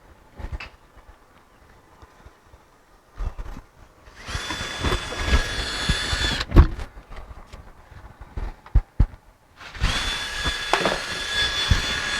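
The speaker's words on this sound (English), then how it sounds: "Right now, just the screw holes, just run that bit through them." Power drill run through screw holes in hard-side camper paneling, with two bursts of whining drilling separated by quieter handling knocks and clatter, close by with no talk.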